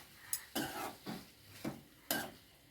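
A utensil stirs egg masala gravy in a pan in quiet, separate scraping strokes, about five or six over a few seconds, with clinks against the metal. The strokes sound fairly close, and no voices are heard.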